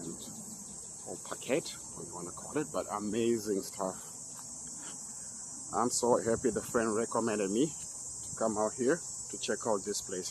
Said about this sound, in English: this sound you hear in the background, these are what we call cicadas.